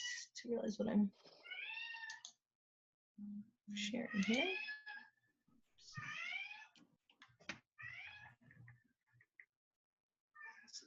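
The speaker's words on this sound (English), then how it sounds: "I'm sorry about my cat." A pet cat meows repeatedly in rising, drawn-out cries close to the microphone, mixed in with a person talking indoors.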